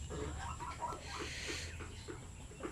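A Basilan rooster, freshly bathed and dewormed and resting from breeding, gives a run of short, throaty clucks at an even pace, close by over steady background hum.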